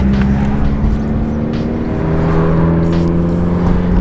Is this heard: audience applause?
no